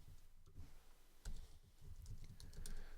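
Typing on a computer keyboard while a plugin name is entered: a short burst of quiet, close key clicks in an uneven rhythm, with no talking.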